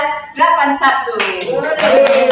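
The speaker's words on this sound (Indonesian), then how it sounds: "tepuk tangan dulu" Applause for volleyball athletes from a studio audience and hosts, a dense burst of hand clapping that builds and stays loud and close, with voices mixed underneath.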